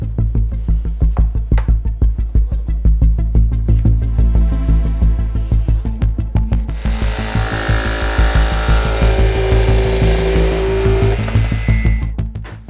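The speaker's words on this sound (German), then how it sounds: "Jetzt kann ich die Form auf meine Platte übertragen und grob mit der Stichsäge aussägen." A jigsaw roughly cuts a shape out of a board for a DIY power rack, buzzing steadily and close with a fast reciprocating throb, then shifting to a harsher, brighter cutting tone partway through. No voices.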